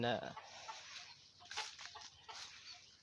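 Fighting roosters kept beside a rustic wooden fence in a Thai countryside yard give a few short clucks and calls, moderately close, over light outdoor background noise.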